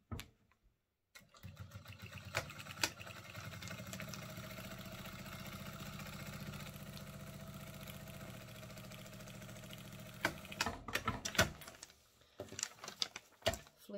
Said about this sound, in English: Flip it back over and stitch 1/8 on the right hand side of that seam